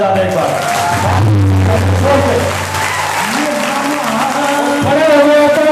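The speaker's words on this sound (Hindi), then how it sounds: "एक बार अपने फैसले के लिए दिल खोल कर तालियां बजा दें" A seminar audience in a hall claps together, the applause running under loud amplified talk and music tones from the stage.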